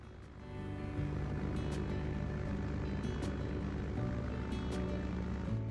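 Steady propeller drone of a Cessna aircraft in flight near Half Moon Bay, a loud continuous engine hum with pulsing harmonics heard close, as from inside the cockpit.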